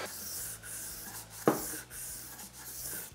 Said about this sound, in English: I'm letting the sandpaper do all